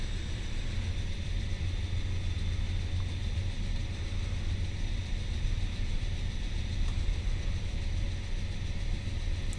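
A Claas Lexion combine harvester unloads grain into a trailer with a steady, dense mechanical rumble and whine, continuous and fairly close, with no voices over it.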